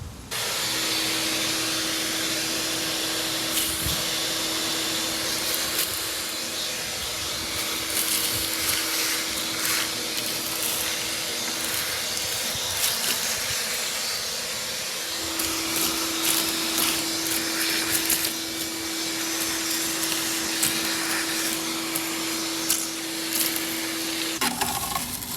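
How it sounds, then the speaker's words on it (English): A shop vacuum sucks dirt, grease and debris out of the engine bay of a Porsche 914 with a Type 4 VW engine, a loud continuous whine with rattling clicks and pitch shifts as the nozzle moves. "Let me get the vacuum and suck some of this stuff up."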